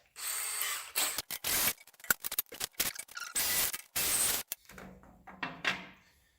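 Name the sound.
power drill enlarging a hole for van fender mounting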